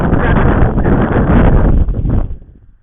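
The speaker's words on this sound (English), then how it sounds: "It is windy, as you might hear" Strong wind buffets the microphone on a spring hike at Sky Lake, a loud close rumble that lasts about two seconds and then fades away.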